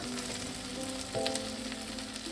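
Chopped tomato added to ginger-garlic masala in a pan for a prawn fritter curry, frying with a soft, low sizzle and an occasional stir, fairly quiet and with no one speaking.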